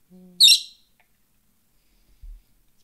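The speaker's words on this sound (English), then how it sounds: "Did you really have to chirp directly into it?" A pet bird lets out one sharp, loud, high chirp very close, after a faint low hum. The rest is near silence apart from a soft low thump.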